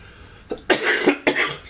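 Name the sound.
cough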